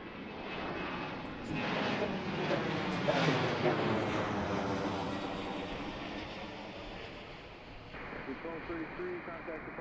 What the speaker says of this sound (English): This one's taken off.